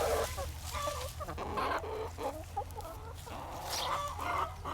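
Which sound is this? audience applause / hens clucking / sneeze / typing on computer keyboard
hens clucking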